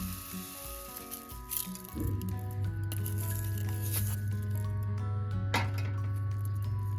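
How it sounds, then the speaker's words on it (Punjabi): Sugar, about 150 grams, poured over cut carrot pieces for gajar murabba, giving a granular rattle and clinks against a dish, with a steady hum underneath in a home kitchen. "150 ਗ੍ਰਾਮ ਤਕਰੀਬਨ ਖੰਡ ਆਪਾਂ ਪਾਉਣ ਲੱਗੇ"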